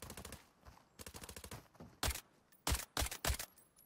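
Gunfire in the mobile shooter Arena Breakout: rapid automatic bursts, then several loud, separate sharp shots in close succession, close and punchy with brief gaps between them.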